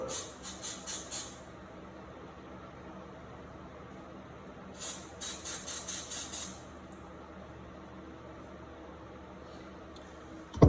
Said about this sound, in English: I'll probably spray a little bit of, yeah, I'll probably spray it.